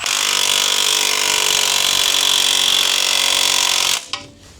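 A power tool drives a bolt tight on a drift car, a loud, steady whirring run lasting about four seconds close by before cutting off abruptly, with no talking.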